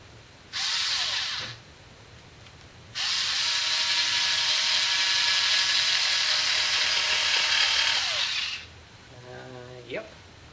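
A Skil power cutter whirs in two loud bursts while slicing through a fabric towel, first a short run and then a longer steady cut, then winds down, with faint clicking afterward.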